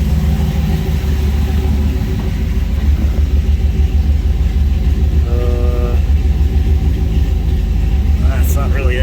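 A Chevrolet C10 pickup with a swapped LS V8 idles at about 780 to 820 RPM, a steady, loud low rumble that carries on evenly with a voice talking over it.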